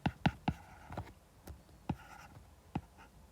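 Chalk or marker strokes on a board during a mathematics lecture: a quick run of sharp taps and scratches, then sparser strokes, close and fairly clear, with no talking over them.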